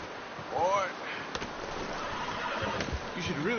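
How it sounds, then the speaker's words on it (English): A horse in the video game Red Dead Redemption whinnies with a rising, wavering cry, then neighs again near the end over a steady windy background. "You should really tether that horse, Arthur."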